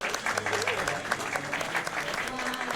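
Crowd applause from the Tony Hawk's Underground skateboarding video game, a steady dense clapping wash lasting the whole moment, with someone talking over it.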